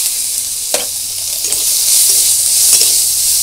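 Chopped onion frying in a pan of oil after prawns and spices, a loud continuous sizzle with a few spatula knocks and scrapes, heard close up with no talking.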